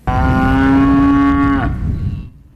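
A single cow on a farm gives one long, loud, steady moo of about a second and a half, then it fades into the open-air background. No one speaks.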